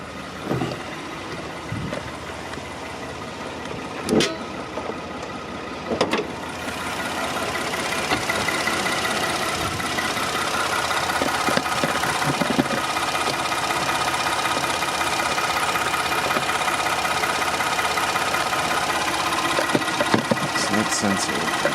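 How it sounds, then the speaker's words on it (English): A 2011 Ford F-150 engine idles steadily during a variable valve timing fault check for code P0017, a constant mid-pitched running hum with a few brief knocks and clicks early on, heard close up without talk. "we want to see if the engine reduced speeds,"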